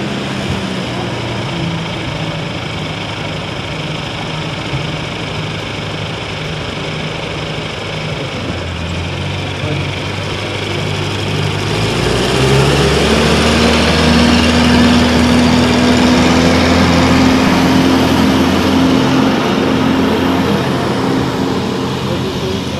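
A 1952 Ferguson TO20 tractor runs in a harvest festival tractor parade, its small engine chugging steadily nearby, then revving louder and higher about halfway through and holding that pitch as it keeps rolling past.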